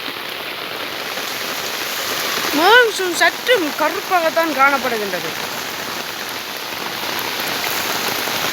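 Steady rain pours down in Jaffna with a dense, even hiss of drops on surfaces, loud and continuous throughout, while someone talks over it for a few seconds in the middle.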